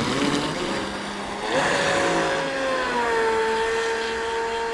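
Proboat Supersonic Wake RC boat with a Scorpion 4035 800kv outrunner helicopter motor, loud, close high-pitched electric whine that surges and climbs as the boat speeds up, then holds a steady tone.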